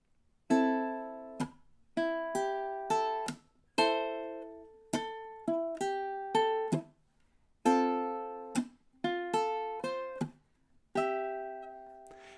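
Ukulele picks out the first three bars of a song very slowly, each plucked note ringing clearly and decaying, in short phrases separated by brief pauses, close and solo.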